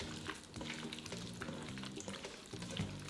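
Raw beef is mixed by hand with Shaoxing wine, white pepper and baking soda, giving soft, wet squelching and stirring sounds that are close, quiet and continuous.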